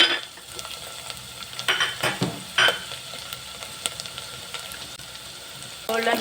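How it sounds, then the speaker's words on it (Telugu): Ginger, green cardamom, cloves and a bay leaf fry in oil for a masala curry, giving a soft steady sizzle with scattered stirring scrapes and a few louder clatters of a spoon against the pan. "అల్లం రెండు చిన్న ఇలాచి రెండు లవంగాలు ఒక బిర్యానీ ఆకు ఇవి వేసుకొని చక్కగా ఫ్రై అవ్వనివ్వాలి"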